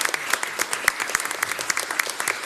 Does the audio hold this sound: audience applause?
yes